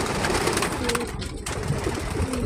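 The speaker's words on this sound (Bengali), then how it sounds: "এটার ভিতরে কিন্তু অনেকগুলো কবুতর আছে" Pigeons cooing in a sandy desert, a steady low murmur of soft coos running throughout with a dense, noisy background and faint talk underneath.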